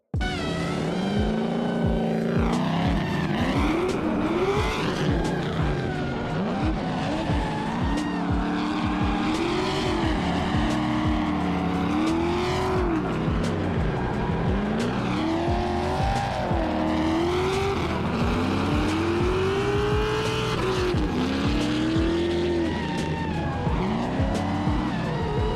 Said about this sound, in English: we're going to leave you with some footage of us driving the car